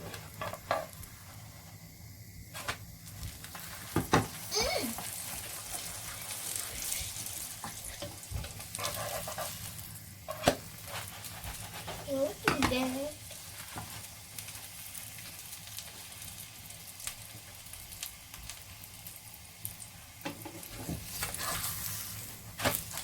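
An aloo paratha, a potato-stuffed flatbread, sizzling in oil on the pan, a soft steady hiss broken by a few sharp clatters and scrapes as it is handled and turned, fairly quiet and close.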